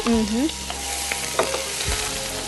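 Onions dropped into hot oil after cumin for a paneer brinjal curry, a loud close sizzle with a short squeal at the start, then steady frying with scattered clicks of stirring.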